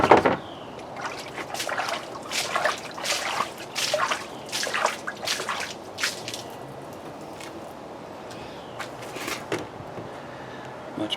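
Water splashing and dripping as orchid roots are rinsed; a busy run of irregular drips and splatters that slowly thins out over the seconds.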